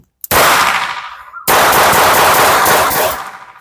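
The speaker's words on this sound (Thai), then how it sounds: "เริ่มเลยครับ ชักปุ๊บยิง" A Beretta Bobcat 21A pistol racked and fired with SB lead round-nose ammunition: two loud, sharp shots about a second apart, each followed by a long, booming echo.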